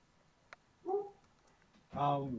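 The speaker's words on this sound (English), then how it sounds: "Oh, that's not my dog. That's the neighbor's dog." A neighbor's dog gives a brief whimpering yelp and then a louder whining bark, heard alongside nearby speech.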